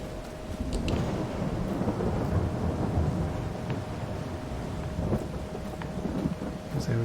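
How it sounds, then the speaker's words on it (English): Heavy rain pours steadily while thunder rumbles and cracks in a thunderstorm in the video game Farming Simulator 22, a dense continuous wash of rainfall with rolling thunder underneath and no voices. "But we can close the door and keep the wind and the rain out."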